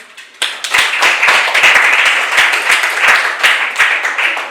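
A school history classroom bursts into clapping, a room of students starting abruptly and keeping up a lively, uneven patter with distinct sharp claps, close and fairly loud.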